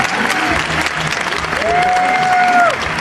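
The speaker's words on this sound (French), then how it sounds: "On l'applaudit s'il vous plaît." Audience at a gaming event applauds a team on stage, a dense, steady wash of clapping, with a whistle and a few faint voices in the crowd.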